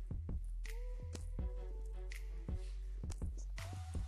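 Jaggery water being poured and stirred into gram-flour patra batter in a home kitchen produces soft squishy, wet splashes and irregular taps from a spoon, close and quiet.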